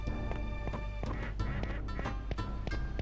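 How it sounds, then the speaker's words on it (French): Ducks quack repeatedly in short bursts in the video game Skies of Arcadia, several calls overlapping in quick succession over a low steady background hum. "J'ai entendu des canards."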